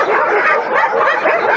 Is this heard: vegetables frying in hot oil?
no